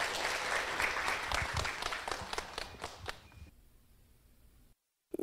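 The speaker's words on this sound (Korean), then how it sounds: "박수로 영상을 환영해 주세요." Applause from a live podcast audience welcoming a screened segment, a burst of many hands clapping that thins into scattered claps and fades out after about three seconds.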